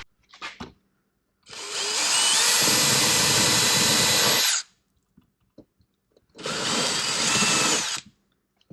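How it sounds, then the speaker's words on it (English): A power drill whirs loudly and close in two long bursts of about three and two seconds, drilling a hole in a wall, separated by quiet with small clicks and bumps. "If you drill a hole, here we go."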